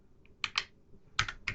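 A few quiet key presses on a computer keyboard as a filename is typed, sparse clicks in two small clusters, close and faint.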